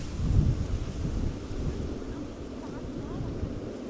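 Gusty wind at Schiphol Airport rushes and buffets the microphone in a steady low roar, strongest near the start and easing slightly, with no talk over it.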